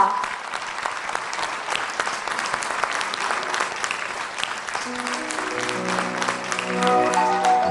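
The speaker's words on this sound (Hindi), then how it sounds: "जोरदार तालियों से स्वागत कीजिए" An audience at a stage event claps in steady, dense applause throughout, and musical tones start to rise underneath it toward the end.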